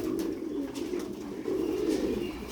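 A pigeon coos steadily and close by in a low, rolling, continuous murmur, with no speech over it.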